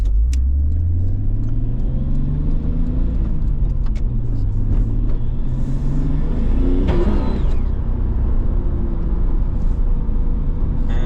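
Nissan Skyline engine revving hard on a stock intake, its droning pitch rising and falling steadily, with a sudden sharp burst partway through as a hose blows off, loud and close.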